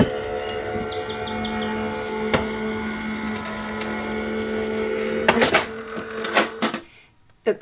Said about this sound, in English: the birds are just an added special addition to my craft room in the morning